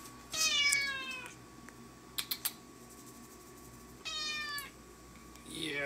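A pet cat meows twice near a kitchen perch, each call a drawn-out, rising-and-falling cry, separated by a few soft clicks and a quiet room hum.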